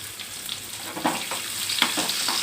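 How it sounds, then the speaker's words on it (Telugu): Curry leaves and chopped raw onions crackle and sizzle in hot oil for a tempering for a Malabar spinach and raw mango tamarind stew, a close, continuous fry with small pops and stirring. "కరివేపాకు వేసుకొని కొంచెం పచ్చి ఉల్లిపాయలు కూడా వేసుకొని"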